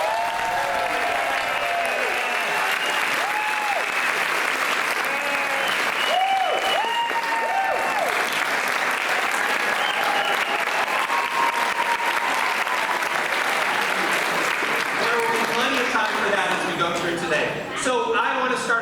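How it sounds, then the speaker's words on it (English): Loud, sustained applause from a crowd at a school dedication ceremony, continuing for nearly twenty seconds before tapering off, with some cheering mixed in. "let's just start right off by giving a round of applause for Mr."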